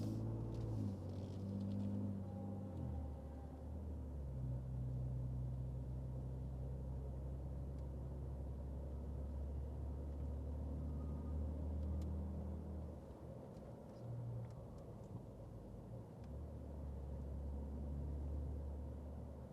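A 2019 Ford Raptor truck drives along with a low, steady engine rumble and road drone heard from inside the cab, swelling slightly as the throttle is applied.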